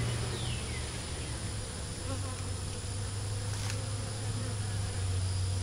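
Steady, dense buzzing of many honeybees close by at a hive, a continuous hum with a few individual bees flying past.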